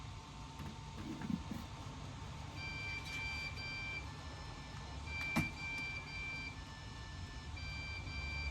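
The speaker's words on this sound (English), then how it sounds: "We got some crazy beeping." Repeated electronic beeps from a homemade CPU mining rig come in short, evenly spaced bursts of high-pitched tones, faint against a steady hum of fans and room noise, with a couple of soft knocks.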